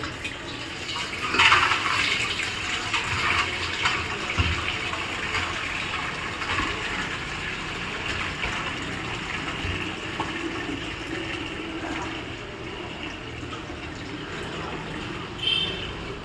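Water gushes out through an opened valve in a steady rushing flow, loudest near the start and then easing to a continuous splashing stream, with faint mechanical hum underneath.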